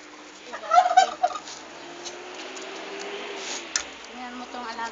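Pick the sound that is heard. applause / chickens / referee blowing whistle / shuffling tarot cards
chickens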